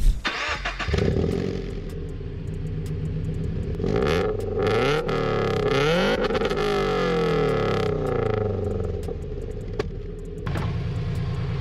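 A Subaru BRZ sports car engine fires up and revs, rising and falling through several loud accelerations with a throaty rumble, close by and without speech.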